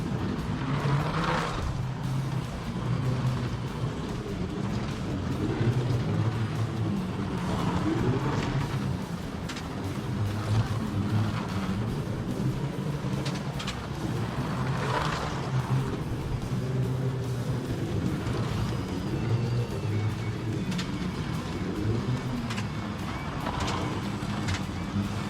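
Slot cars lap a model track night-racing style, with a continuous buzzing motor whine that rises and falls in repeated surges as the cars circle, steady and moderately loud, with no talking.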